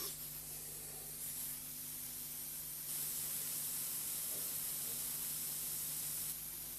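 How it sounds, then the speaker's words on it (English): A flame photometer's nebulizer sprays sample solution into a mist, a steady even hiss that grows a little louder partway through and runs continuously without talk, with a faint low hum beneath. "The air flowing into the nozzle at the front of the unit draws solution up a thin tube and converts it into a"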